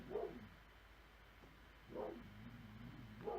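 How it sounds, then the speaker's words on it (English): A pet dog somewhere indoors lets out three short, faint barks spaced about a second and a half apart, muffled and distant, with no talking. "Sorry if you guys can hear my dog. He's, very worked up right now for some reason."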